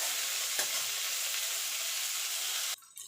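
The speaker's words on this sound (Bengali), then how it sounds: "এটা একটু ভাজা ভাজা করে নেব।" Whole spices and three dried red chilies fry in hot oil in a pan for a fish curry, producing a steady close sizzle for nearly three seconds before it abruptly drops away to quiet.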